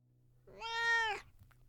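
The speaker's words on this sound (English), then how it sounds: "The sound of a cat almost had me laughing with relief." A single cat meow at night on a front porch, drawn out for about half a second, clear and fairly close, with a faint low hum underneath and no talk.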